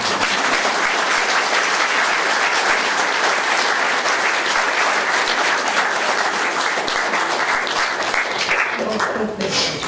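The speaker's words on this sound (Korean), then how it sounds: "박수 쳐주세요" Loud, dense applause fills a room at a book launch for a Korean pastor's theology book, continuous and close, with a faint murmur of the crowd running beneath the clapping throughout.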